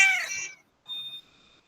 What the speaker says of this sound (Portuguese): ela fica esfregando a cabeça no meu pé e fica miando